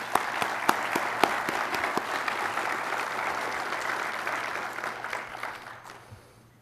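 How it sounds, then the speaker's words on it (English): A room of conference attendees applauds the AEA staff at a board chairman transition event, steady dense clapping with a few sharp individual claps standing out early, fading gradually toward the end. "let's give the hardworking AEA staff a round of applause"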